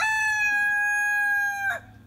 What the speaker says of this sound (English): There's one little chicken.